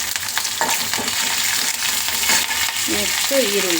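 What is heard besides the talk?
green chilies and curry leaves frying in oil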